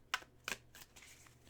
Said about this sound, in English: It shuffles pretty well, but I can only shuffle it like this